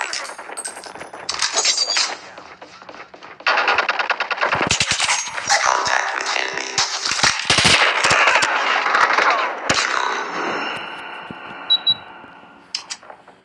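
Rapid automatic gunfire from the Call of Duty video game rattles in dense bursts, loud and close, with scattered single shots and explosive cracks throughout.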